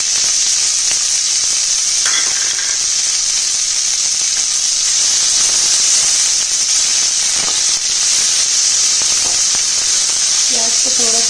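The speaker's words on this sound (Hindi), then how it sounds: "कढ़ाई अच्छे से गर्म हो गया है, अब इसमें ऐड करूंगी कटा हुआ प्याज।" Chopped onion frying with dried chillies and whole spices in a hot kadai, a loud, steady sizzle and hiss running the whole time with faint clinks of stirring.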